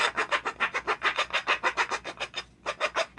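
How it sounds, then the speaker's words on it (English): A rasp file scrapes back and forth over the edges of a wooden pipe in quick, even strokes, about a dozen rough rasping passes with one short pause, close and fairly quiet. "All I'm doing is getting rid of the harsh edges right here with a rasp file."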